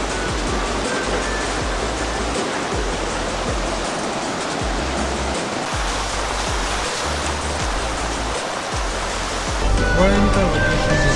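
Fast-flowing river water in Yingkiong, Arunachal Pradesh, rushes in a steady, loud, broadband roar that fills the whole stretch, swelling slightly near the end.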